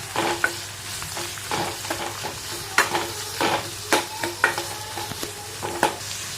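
Onion and green chilli sauté in a pan, a continuous sizzle broken by frequent rhythmic spatula scrapes and knocks, close and fairly loud.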